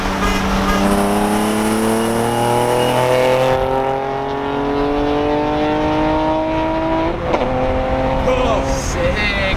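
A BMW E30's engine sits on its two-step launch control rev limiter, a loud, close, sustained high-rev drone whose pitch climbs steadily, with a sharp crack near the end.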